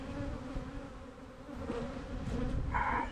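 Honeybees buzz steadily in an opened hive during an inspection, a dense continuous drone close by, with a brief brighter whine near the end.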